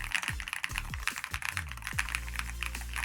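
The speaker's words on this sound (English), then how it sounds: "how it actually feels typing on this keyboard" Fast, irregular clicks of typing on a mechanical keyboard, recorded close and fairly quiet, with a few heavier key strikes and a low steady hum underneath.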